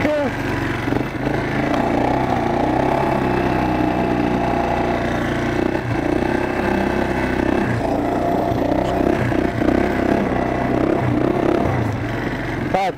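Quad bike engine running steadily on ice while reversing, a continuous close, droning mid-pitched rumble throughout with no clear breaks.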